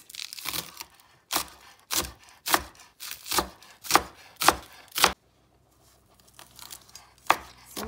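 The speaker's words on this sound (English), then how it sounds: "we're gonna chop up our green onions" Green onions chopped with a knife on a board: a run of about ten sharp, close chops in an uneven rhythm, a short pause, then a few more quieter cuts, with no talk.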